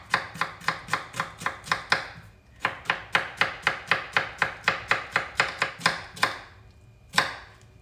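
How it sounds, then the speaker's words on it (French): A sharp knife finely chops shallots on a board in quick, even strokes, two long runs of rapid taps broken by a brief pause and ending with a single last cut. "pour ciseler les échalotes, il faut avoir un couteau qui coupe très bien"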